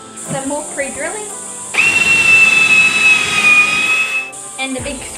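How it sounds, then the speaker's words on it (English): A power drill pre-drills a screw hole in a block while electrifying an old pedal boat, giving one steady whine of about two and a half seconds, with brief clatter and handling noise before and after. "More pre-drilling"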